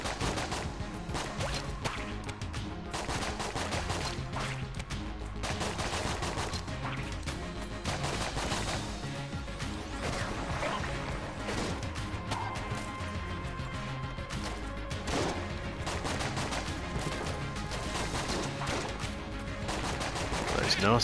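Shotgun kin enemies in Enter the Gungeon blast away in a dense, continuous barrage of game gunfire, with crashing impacts and layered shots running throughout and faint talk underneath.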